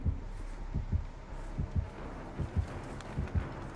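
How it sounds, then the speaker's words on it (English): A muffled heartbeat warning pulses in paired low thumps in Dead by Daylight, fairly faint, repeating at an even rhythm over soft game ambience. "Okay, I heard a heartbeat, but it seems to have faded."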